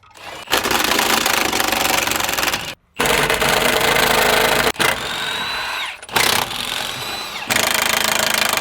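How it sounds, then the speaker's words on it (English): Bolts on a car subframe are loosened with a power tool during a B58 engine swap into an F31, loud rattling bursts of hammering that start and stop several times with short pauses between. "Okay, we're gonna unscrew the subframe."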